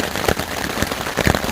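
Heavy rain falls at night on a trail campsite along the route from Hot Springs, North Carolina to Erwin, Tennessee, a steady close hiss with heavier drop bursts, no voices.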